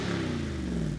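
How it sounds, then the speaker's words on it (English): The 392 V8 in a 2021 Jeep Wrangler Rubicon, 470 horsepower with dual-mode exhaust, gives a steady, deep, rumbling drone for a moment, loud and close, with no voices. "an exhilarating, unmistakable V8 sound"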